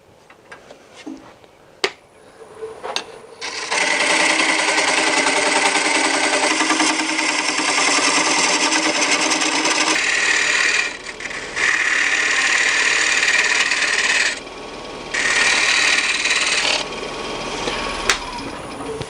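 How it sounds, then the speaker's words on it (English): Wet wood bowl turned on a lathe and cut with a 5/8 inch bowl gouge, a loud sustained hissing, whirring cut that stops and restarts a few times over a low motor hum, close and continuous. "And I am going to go back to a 5/8 inch bowl gouge."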